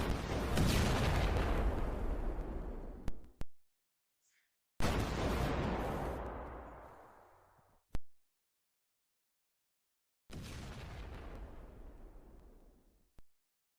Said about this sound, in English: So take a look at the fireball launch.